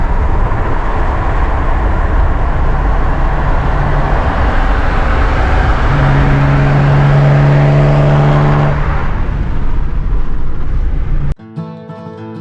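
A Porsche sports car with big wide tires drives along a road, its engine giving a loud, steady drone with rising tonal whine under heavy road and wind noise, cutting off abruptly near the end.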